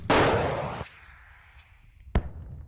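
NLAW shoulder-mounted anti-tank missile fired: a loud, sharp launch blast with a roaring rush that fades into a thin hiss, then a second hard bang a moment later.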